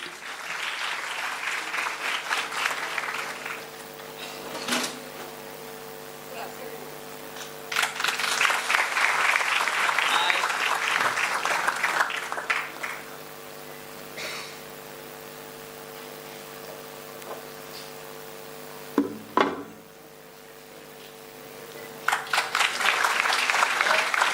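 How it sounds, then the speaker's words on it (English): At an international conference felicitation, an audience breaks into repeated rounds of loud, dense clapping, separated by quieter stretches where a steady electrical hum fills the room. "A huge round of applause, please."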